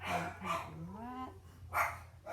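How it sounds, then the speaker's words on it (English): A small dog yips and barks indoors in a few short, fairly faint bursts with a whimpering tone between them. "my dogs are at it again. He loved to bark."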